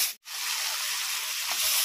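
Tomatoes with turmeric frying in a pan, a steady close sizzle and hiss with a short break near the start, no voices.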